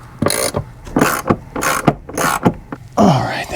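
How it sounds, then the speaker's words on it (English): Nuts being tightened on a Goose Gear 40% seat delete install in a Jeep JKU, a close series of sharp ratcheting bursts in uneven rhythm, loud and without talk. "start getting these tightened down, and then we'll finish tightening everything at the same time"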